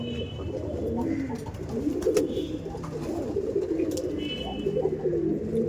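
Pigeons cooing in a crowded loft, soft repeated low coos overlapping close by over a steady murmur, with occasional faint clicks and rustles.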